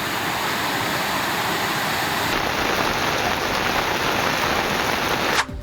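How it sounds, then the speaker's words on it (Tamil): Heavy rain pours down in a dense, steady roar, loud and continuous throughout with no voices, ending in a brief disturbance at the very end. "இன்று காலை முதலே கனமழை கொட்டி தீர்த்தது."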